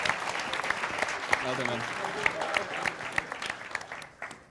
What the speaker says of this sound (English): a huge round of applause for Random Ramblers